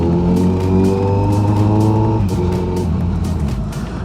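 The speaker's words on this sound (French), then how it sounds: "Alors la moto, elle fait du bruit." A motorcycle engine drones loudly while riding through village roads and winding bends, heard from inside the helmet: a steady rumble with a strong harmonic hum, dropping in pitch partway through as the revs fall, with wind noise and no talking.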